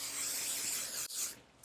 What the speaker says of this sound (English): And you want to spray again.